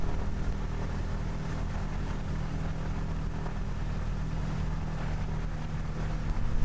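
Sikorsky S-39 seaplane taxiing on water, a steady droning engine rumble with wind noise, loud and continuous without a break.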